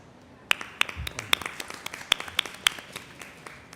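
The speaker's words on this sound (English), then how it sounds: "Please give another round of applause." Sparse applause from a small conference audience after a climate policy session, scattered claps with a few louder sharp hits, fairly close and thin.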